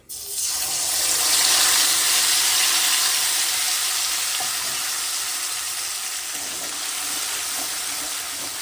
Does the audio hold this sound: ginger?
yes